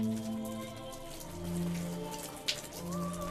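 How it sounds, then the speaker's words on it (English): Steady rain patters throughout at moderate loudness, with sustained tonal music droning beneath it and one brief sharper splash or knock partway through. "you better get in out of the rain, girl"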